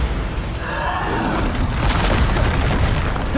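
The Bombarda spell goes off in Hogwarts Legacy as a loud, sustained blast, a deep rumbling boom with crackling debris that swells and holds rather than fading.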